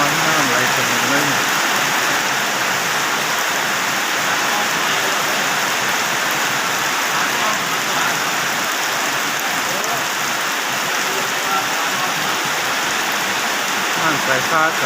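Heavy rain falls at a house in the countryside while water runs over the road. A dense, constant hiss of downpour and flowing water sounds close and loud, and a voice is faintly present beneath it.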